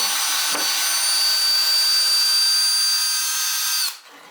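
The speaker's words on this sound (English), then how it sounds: "So let's unscrew this again" A cordless power drill runs steadily backing screws out of a guitar build jig for a seven-string Les Paul style guitar, one continuous whine lasting nearly four seconds before cutting off, close and loud.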